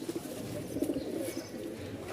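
Giribaz pigeons cooing softly at the Mirpur-1 pigeon market in Dhaka, low murmuring coos in a continuous close stream with no talk.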